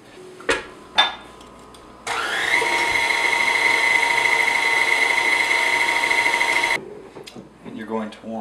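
An electric mixer kneads cinnamon roll dough on medium to medium-high speed, a steady close whine of about five seconds framed by a few knocks.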